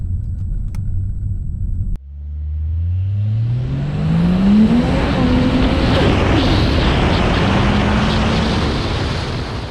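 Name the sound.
Ford FPV car engine driving and accelerating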